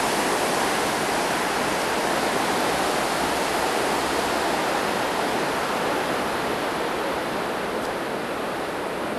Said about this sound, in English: And this is the River Adige.